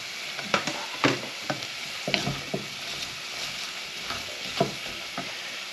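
Red cabbage and chopped apple fry in a pan with a steady close sizzle, broken by sharp scraping clicks and knocks as they are stirred; no voices.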